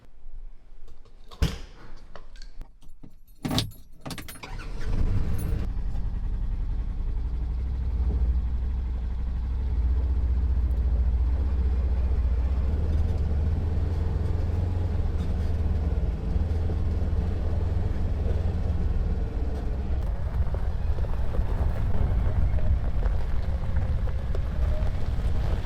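Side-by-side utility vehicle driving up on a rainy farm harvest day: a few sharp clanks at first, then a steady loud engine rumble with hiss, continuous for about twenty seconds.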